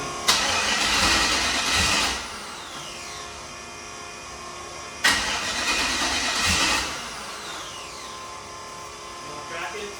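A twin-turbo LS engine in a C10 truck is started twice. Each attempt brings a sharp burst of cranking and rough running for about two seconds before it dies away, with a fainter stir at the very end.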